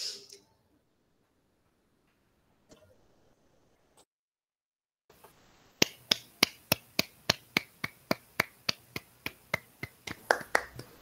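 After near silence, a steady series of sharp finger snaps rings out, evenly spaced and close, used in place of clapping in an online Google Meet session.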